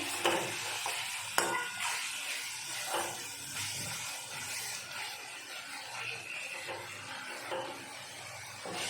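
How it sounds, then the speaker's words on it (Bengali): Spice paste for chicken kosha fries slowly in oil, giving a continuous soft sizzle and hiss with occasional stirring scrapes and clicks from a utensil against the pan. "মশলাটা দেখুন আস্তে আস্তে কষানো হচ্ছে। মশলা দিয়ে তেলও ছেড়ে দিচ্ছে।"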